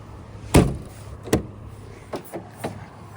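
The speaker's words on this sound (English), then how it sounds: "Tailgate glass opens." Tailgate glass of a 2011 Toyota FJ Cruiser 4WD opening: a sharp latch click and thump, a second click a moment later, then a few softer knocks, close up with no talking.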